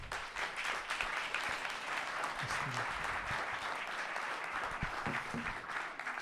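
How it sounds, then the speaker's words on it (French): An audience at an evening event about the Château de Tournoël claps steadily, a full, even round of applause from many hands that carries on for several seconds. "on peut les applaudir."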